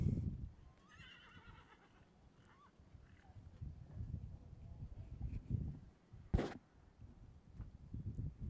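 At an outdoor show jumping competition, a horse gives a clear whinny early on, followed by soft, uneven hoof thuds and low rumbling arena noise.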